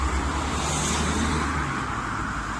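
Steady roar of road traffic as a car passes close by near the train station in Ince-in-Makerfield, Wigan, UK, loud and continuous, with no voices.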